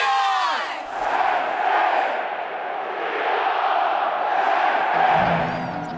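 A huge Penn State football crowd at Beaver Stadium roars a single sustained cheer, loud and echoing across the stands, swelling and holding for several seconds.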